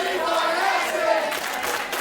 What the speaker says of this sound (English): listen to this great capacity crowd here tonight, coming alive for the Prince of Petty